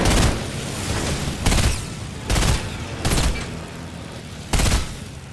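Gunfire in Fortnite, a run of loud, close blasts in about five separate bursts, each a broad booming crack with short pauses between, with no talk over it.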